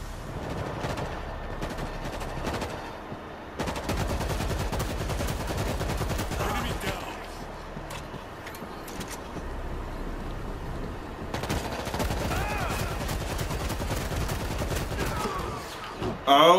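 Automatic gunfire in the zombie shooter World War Z, firing on people in an online match: near-continuous rapid shots run throughout, with brief lulls, and a voice is faintly present in places.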